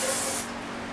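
Carb cleaner sprays from an aerosol can onto a carburetor intake as a Weber 40 IDF is installed, a loud close hiss for about half a second that then drops to a quieter background.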